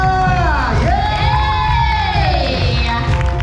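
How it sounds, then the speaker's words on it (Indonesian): A loud wedding crowd cheering and whooping for the bride and groom, a dense sustained roar of shouts and calls with one rising and falling shout riding on top. "Boleh saya minta tepuk tangan yang paling meriah untuk Samuel and Ludovika"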